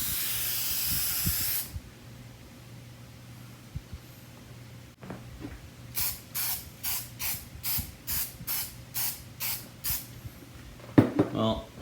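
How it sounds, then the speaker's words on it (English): An aerosol can sprays onto scratched plastic in a long hiss, then a series of about ten short rhythmic bursts, close and clear, with quiet background noise. "let's try spraying it again."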